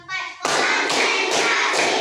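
A classroom of children claps in unison to a count, four loud, evenly spaced group claps following a short spoken cue.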